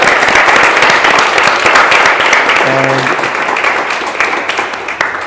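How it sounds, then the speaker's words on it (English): An audience at a Barcelona community gathering applauds: dense, continuous clapping fills the whole stretch at a steady loud level, tapering slightly toward the end, with a brief tonal sound rising above it midway. "a little applause for all of us"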